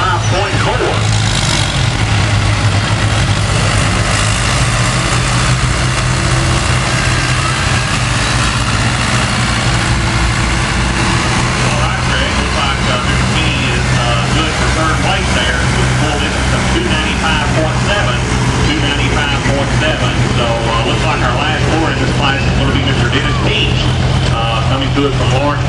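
A pulling tractor named Coffee Habit roars at a tractor pull, a loud, sustained heavy engine drone with a steady low hum, heard continuously while an announcer talks over the crowd.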